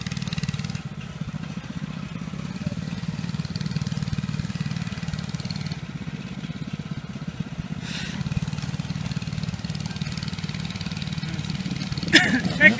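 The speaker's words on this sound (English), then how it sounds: "Josh is doing wheelies on Cooper's little mini bike." A small mini dirt bike engine runs and revs on open land as a rider pulls wheelies, a steady mid-pitched buzz at moderate distance with rises and dips, with people talking over it.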